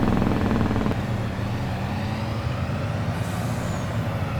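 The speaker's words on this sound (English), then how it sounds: "Oh, well, there's a Jake brake." Truck engine brake in the video game Farming Simulator 22, a loud rough rapid rattling drone that holds steady without a break for several seconds, with no talking.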